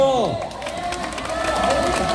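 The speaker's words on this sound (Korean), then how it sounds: "앉아 계신 분들은 세게 박수를 쳐주는 겁니다" A crowd at a Wednesday rally claps and cheers steadily, mixed with voices and a loud amplified voice over the noise.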